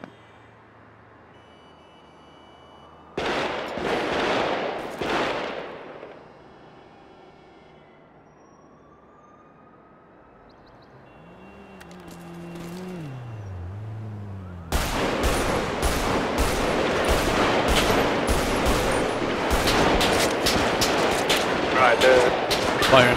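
Gunfire in a police roleplay video game, with a short burst of shots followed by a long, rapid run of sustained automatic fire, mixed with other game noise and voices talking.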